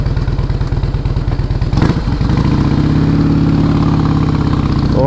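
A Harley-Davidson motorcycle, largely stock, idles nearby with a loping, lumpy engine pulse; a brief clatter or blip interrupts before it settles back into a steady, loud idle, with no talking.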